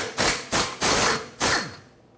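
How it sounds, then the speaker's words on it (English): Four rapid ratcheting bursts loosening a 15mm hanger bolt on a rubber transmission-mount hanger of a 2009-2010 Ford F-150, close and fairly loud, with a clicking tail fading at the end. "Now we have to unbolt the two rubber hangers off of the transmission mount so this pipe can come out."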